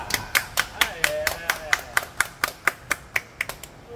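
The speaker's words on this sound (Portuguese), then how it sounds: "Palmas, cara." A single person claps about fifteen times in a steady, crisp rhythm, the sharp claps close and fairly quiet, with a faint voice murmuring underneath in the middle.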